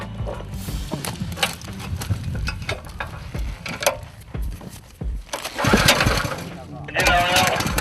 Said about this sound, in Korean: 자, 엔진 시동 거세요.